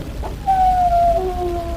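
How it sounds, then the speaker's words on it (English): Alsatian dog whining as a radio drama sound effect, a thin drawn-out wavering whine that slides gently downward and then continues more faintly, heard alone against a quiet background. "I hear a dog whining."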